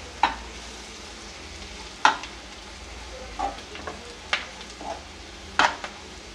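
A spoon scrapes and stirs red chili powder, turmeric, coriander and cumin frying in a pan, with a steady sizzle under five or six sharp metallic scrapes spaced a second or so apart, close and alone.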